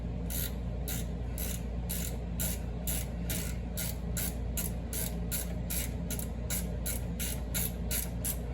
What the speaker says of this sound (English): This is a ratcheting box end wrench